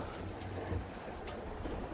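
Sailboat under sail with the engine cut, the Kelt 7.60's bow cutting water and its wake hissing behind, wrapped in soft wind buffeting; a faint, steady wash with no voices.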